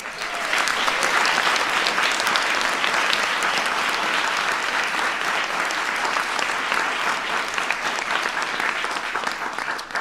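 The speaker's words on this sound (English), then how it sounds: "So give Maya a big round of applause." A large audience applauds at a presidential press event tied to a nuclear security summit, sustained, even clapping from many people that stays loud and unbroken throughout, with no voices on top.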